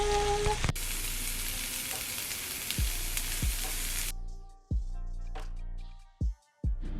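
Quinoa and vegetables with seasonings fry in a pan with a loud, dense sizzle. The crackle cuts off partway, leaving a few knocks and scrapes of stirring against the pan.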